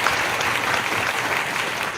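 An audience at an Astronomy On Tap trivia night applauds the prize winners, producing dense, even clapping that holds steady for the full two seconds without voices.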